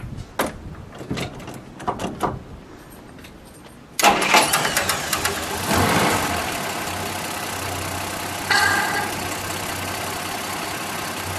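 A 1953 Studebaker Regal Champion Starliner engine cranks and catches after a few quiet clicks and knocks, then settles into a steady, smooth idle that runs close and even to the end.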